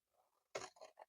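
Scissors snip through paper in a few close, crisp cuts that come in short bursts after a quiet moment of faint rustling.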